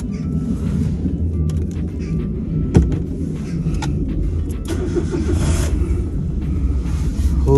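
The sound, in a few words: car engine starting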